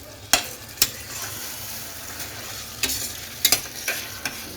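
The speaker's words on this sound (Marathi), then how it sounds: "तर आपण हे चांगलं असं हलवून घेऊयात।" Marinated chicken in yogurt and lemon sizzles steadily in a pan while a spoon scrapes and knocks against the metal in several sharp strokes, close and without talk.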